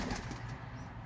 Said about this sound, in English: The flying tipplers are really interesting birds to see.